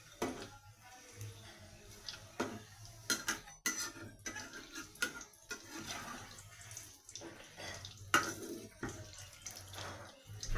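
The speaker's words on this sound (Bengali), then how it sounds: "আমি পিঠাগুলোকে একটু উল্টিয়ে পাল্টিয়ে নেব।" Egg pitha snacks being turned over in a pan in a home kitchen, with scattered metallic clinks and scrapes of a utensil against cookware over soft background noise.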